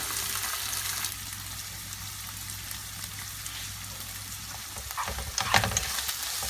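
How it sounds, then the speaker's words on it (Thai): Beaten egg sizzles steadily in a hot pan as it is scrambled for a macaroni stir-fry, with a soft constant frying hiss and a few brief scraping stir sounds toward the end; no one speaks. "พอไข่เริ่มเซตตัวนะคะ ก็ยีให้ไข่กระจายตัวค่ะ"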